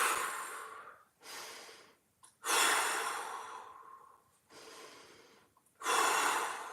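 Deep diaphragm breaths during a hip mobility workout: four or five long, strong breath sounds, each a drawn inhale or exhale lasting about a second, separated by short pauses, close and clear without talk.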